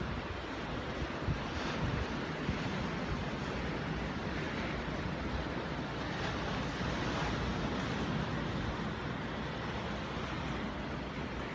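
Ocean waves roll in at sunset, a steady, dense wash of surf with some wind noise, continuous and fairly loud throughout with no voices.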